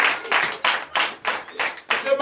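A church congregation claps in praise during a French morning prayer service, with steady rhythmic clapping at roughly four claps per second, close and clear, with a voice faintly mixed in.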